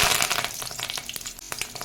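Curry leaves crackle and spit in hot sesame oil alongside already popped mustard seeds and fenugreek, a dense, close sizzle with sharp pops throughout, with no voices.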